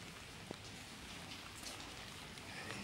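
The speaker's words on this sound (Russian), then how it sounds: "Погода ужасная, идет сильный дождь." Heavy rain falls outdoors as a soft, continuous hiss of drops, faint and even throughout, with no voices.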